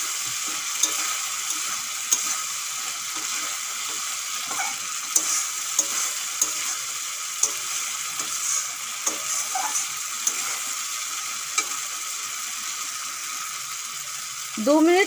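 Fried potatoes tossed into a cooking spice paste for a pointed gourd and shrimp curry, giving a steady close sizzle with occasional scraping stir strokes throughout and a louder burst at the end.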